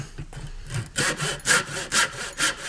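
A hand saw cuts into a golf ball in steady back-and-forth strokes, each rasping stroke loud and close, with a faint bit of handling noise before the sawing picks up.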